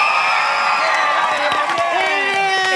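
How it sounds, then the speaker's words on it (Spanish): A studio audience at a Mexican late-night comedy show cheers and whoops for Lagrimita, a loud, continuous crowd roar with shouts rising over it and a voice cutting through near the end. "Aplauso para Lagrimita."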